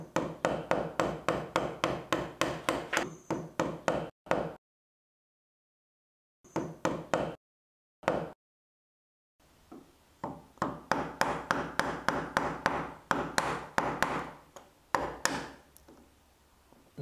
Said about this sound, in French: le nettoyage au ciseau à bois, je peux le faire en mettant directement le fil, le coupant du ciseau à bois dans le trait de tranchée